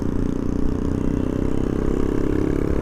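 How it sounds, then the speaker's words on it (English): Street traffic in Jakarta with cars and motorcycles, a loud, continuous drone of engines idling and revving nearby, with no talking. "You see, that's what I mean by traffic."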